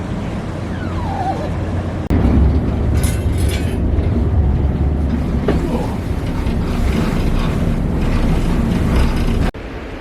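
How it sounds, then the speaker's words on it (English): An odd-looking passenger train rolls toward Katoomba, heard from inside as a loud, steady rumbling drone with a sharp clunk early on and another jolt near the end. "Just jumped on the weirdest looking train to head to Katoomba"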